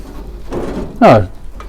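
A metal drawer on a US Pro Tools six-drawer toolbox slides with a short, scraping rattle that rises and falls, over a hissy room background.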